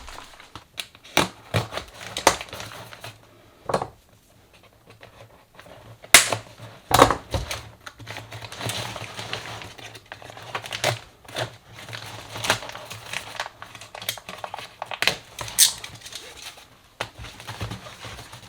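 Excess material is cut away from a workshop suction system in a string of irregular snips, cracks and crinkling bursts, close and uneven, with quiet gaps between the louder cuts.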